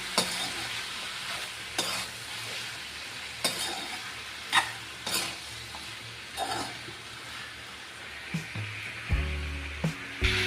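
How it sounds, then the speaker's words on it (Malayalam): Potato curry seasoned with turmeric sizzles softly in a pan while a spoon scrapes and taps through it in irregular strokes, with a few louder knocks toward the end, close and moderate. "ഇത് വീണ്ടും നന്നായിട്ടൊന്ന് ഇളക്കിയെടുക്കണം"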